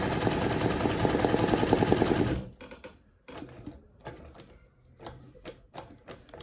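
A sewing machine stitches an embroidery design, running in a loud, dense, continuous burst for over two seconds, then pausing into scattered short bursts and softer mechanical clicks.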